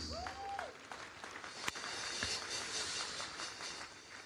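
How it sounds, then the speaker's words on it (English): An audience claps in a steady, moderately quiet burst of applause that carries on for several seconds. "we ask you to encourage him with a hearty applause"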